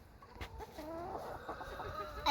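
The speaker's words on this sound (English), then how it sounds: "Paisel likes the regular Cochin Bantams." Cochin Bantam chickens cluck close by in a short, busy burst of overlapping calls, with no talking.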